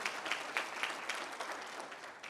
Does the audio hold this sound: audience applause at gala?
yes